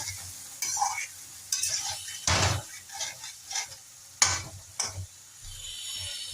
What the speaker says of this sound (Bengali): আমি ঢাকা দিয়ে দিয়ে কপিগুলোকে ভালোভাবে কষবো